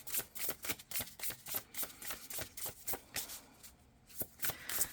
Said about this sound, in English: We're going to pull 3 astrology cards,